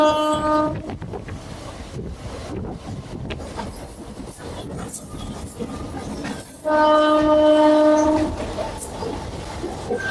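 A Howrah–Amta local train rumbles along between Ramrajatala and Santragachi Junction with a steady rolling roar and wheel clatter, punctuated by two loud horn blasts, the second longer and closer.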